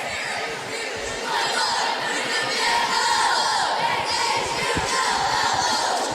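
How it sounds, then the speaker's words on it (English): Cheerleaders chanting and cheering on a high-school basketball court during a boys' game, a loud sustained mass of shouting voices echoing in the gym, rising slightly partway through and holding steady. "Now the cheerleaders out on the court doing their cheer."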